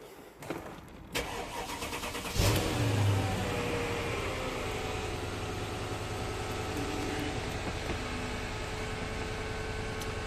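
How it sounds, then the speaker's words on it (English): A 2006 Mercedes ML cranks over with a sharp burst and catches, then settles into a steady, close idle that drones on evenly for several seconds after a few clicks and thumps. "I'm gonna actually start the engine."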